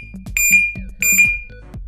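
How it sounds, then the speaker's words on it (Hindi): An electronic security alarm lock beeps in short repeated bursts when touched, two pairs of loud, piercing tones close by. "जैसे ही कोई इसको छुएगा तो पहले ये अलार्म देगा दो बार, फिर एक बड़ा सा साइरन बजेगा"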